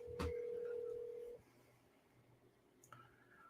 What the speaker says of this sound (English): we're going to call them right now